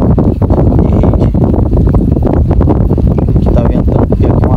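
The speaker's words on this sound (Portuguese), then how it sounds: "Aqui tá ventando, porque aqui é um aberto, né? Ventando bastante" Strong wind buffets the microphone in loud, gusty bursts at an open lagoon shore, a constant roaring rush with no talking.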